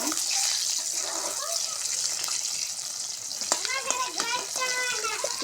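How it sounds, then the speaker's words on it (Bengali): Eggs browning in hot oil in a home kitchen pan hiss with a steady, moderately loud sizzle, joined near the end by scraping and stirring clatter, with no talk. "ডিমগুলো লাল লাল করে আমরা তেলে ভাজে নেই"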